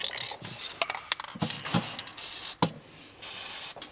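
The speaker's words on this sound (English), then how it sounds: "Give them a spray." Contact cleaner sprayed onto Audi R8 connector pins in several short, sharp hissing bursts of varying length, close and loud, with faint clicks between them.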